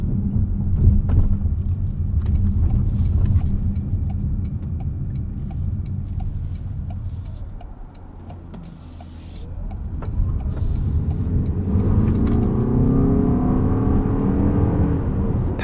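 A 2026 Toyota RAV4 GR Sport crossover accelerating on the road, heard from inside the cabin as a low engine and road rumble that dips briefly midway, then builds again with a rising drone.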